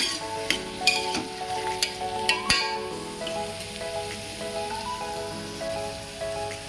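Beans, radish and carrot sizzle in a hot pan for sambar, with a few sharp clinks and scrapes of stirring early on and soft background music underneath.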